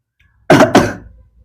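A man with a sore throat gives two loud, close, chesty coughs in quick succession, with nothing else around them.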